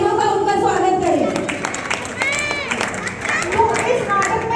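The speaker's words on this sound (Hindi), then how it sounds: "सभी जोर से तालियों का उनका स्वागत करें" An audience at a Ganpati festival play applauds to welcome child performers, a crowd of clapping hands mixed with voices and shouting children, with music or tonal sounds ringing over it.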